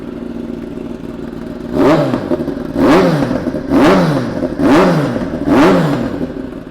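A 2018 Kawasaki ZX10R KRT with a Lextec exhaust idles close by, then gets five sharp, evenly spaced revs, each a quick rising and falling blip back to a rough idle.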